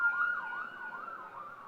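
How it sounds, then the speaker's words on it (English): An ambulance siren wails in a steady rising-and-falling cycle, loud and continuous with no other sound around it. "Ambulance."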